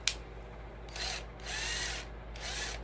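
A power drill whirring in three short bursts with brief pauses between, close and moderately loud over a low steady hum.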